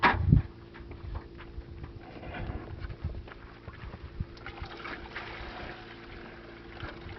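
Water washing gold prospecting material from a recirculating sluice cleanup into a bucket, a close trickling and splashing flow with a steady low hum and occasional knocks, no talking.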